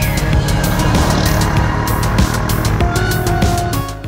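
Honda Foreman 520 ATV engine revs hard while driving on a dirt road, a loud, close, continuous motor drone with rising and falling pitch and rapid gear changes, easing slightly at the end.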